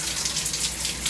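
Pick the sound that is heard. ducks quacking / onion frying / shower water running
shower water running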